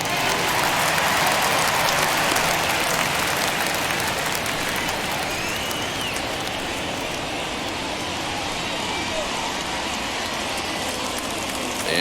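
Large video-game baseball crowd in MLB The Show 21, Astros at A's, cheering and applauding steadily as fans rise to their feet; a broad, continuous roar fills the whole stretch, with no talk over it.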